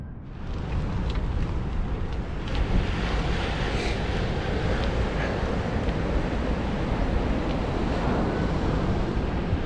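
Surf washing onto a beach at Blyth, a steady, loud roar of breaking waves with heavy wind buffeting the microphone throughout, no voices.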